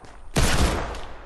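A burst of gunfire in a Fortnite murder mystery match erupts suddenly after a quiet moment, loud and close, then fades out.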